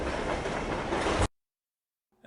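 A train in the Spider-Man 2 video game rumbles loudly with broadband rail noise for about a second, then cuts to silence before a faint sound returns at the end.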